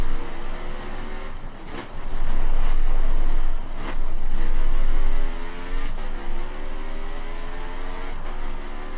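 A 450cc dirt motorcycle in The Crew racing game revs hard and continuously, its loud buzzing engine note climbing and falling through gear changes, with no voices.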